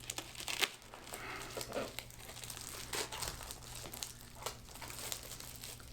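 Mailed packaging around a vintage motorcar book being opened by hand, close crinkling and rustling with sharp tearing bursts, continuous and fairly quiet.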